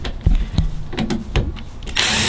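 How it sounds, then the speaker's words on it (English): A power drill runs in short whirring bursts broken by knocks and clunks, close and fairly loud, ending in a steadier, harsher whine. "If you don't know how to use a drill, this is what you do."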